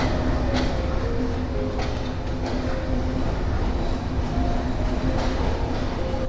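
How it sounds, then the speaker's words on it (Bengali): The Rupashi Bangla Express leaves Dhaka Kamalapur station bound for Benapole, a steady loud rumble of rolling carriages with a faint humming tone and light rattling throughout, no voices. "আমাদের train Dhaka Kamalapur rail station থেকে চলে যাচ্ছে বেনাপোলের উদ্দেশ্যে"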